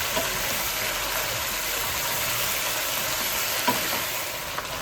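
Four or five onions sizzle in a frying pan for a traditional Spanish tortilla while being stirred, a steady, close crackling hiss with a couple of faint scrapes from the spoon.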